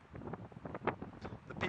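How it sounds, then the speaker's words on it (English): Strong gusting wind buffeting the microphone outdoors at an open flying field, a loud rough rumble that surges and falls in quick irregular bursts. "The winds just keep getting stronger and stronger."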